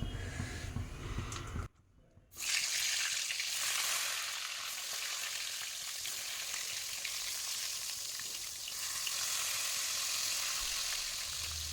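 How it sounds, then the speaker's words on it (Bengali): Eggplant fries in a pan on a gas stove with a steady, loud sizzle. A short silent gap comes early, then the sizzle carries on evenly to the end. "এই গ্যাসে বেগুনটা ভাজা করে ডিম চচ্চড়িটা করব"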